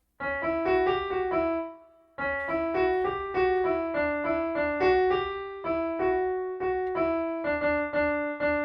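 Keyboard melody from the Ganesh Aarti Ek Dantay Vakratundaya, single clear notes stepping through a short phrase, played twice with a brief pause between, moderately soft and alone without talk.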